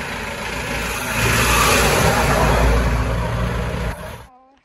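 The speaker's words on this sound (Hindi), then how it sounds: "और ये आ रही है बस" A bus pulls into the vehicle line at Someshwar, its mid-pitched engine rumbling nearby, swelling as it revs, holding steady, then fading and cutting out near the end.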